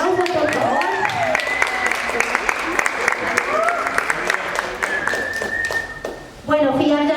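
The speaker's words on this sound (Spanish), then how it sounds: "que se escuche ese fuerte aplauso, por favor" An audience applauds a dancer at a talk and performance event, with a steady patter of many hands clapping throughout while a person speaks over it.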